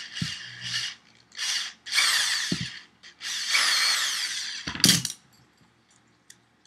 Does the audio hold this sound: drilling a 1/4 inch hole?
yes